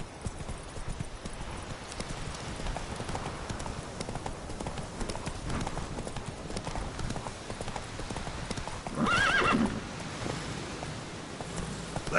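Hooves clip-clop in a steady galloping rhythm in The Witcher 3, set against a wind-like ambient wash, with a short burst of a louder sound near the end.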